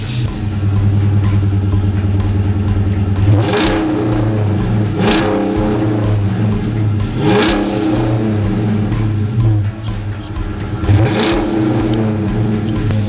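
A Mopar car engine fitted with a budget performance exhaust revs repeatedly in loud bursts over a steady rumbling idle, with a deep, throaty exhaust note and no talking.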